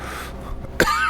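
A man who is recovering from Omicron gives a short, close throat-clearing cough near the end, after a moment of quiet breathing.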